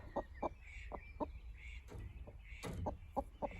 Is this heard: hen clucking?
yes